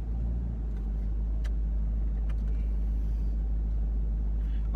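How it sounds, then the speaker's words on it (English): A 2020 Toyota Land Cruiser creeping through sand in four-wheel low with crawl control engaged: a steady deep engine drone with low rumble, close and continuous, with faint clicks on top. "Once it's on four-wheel low, I switch on the crawl control mode."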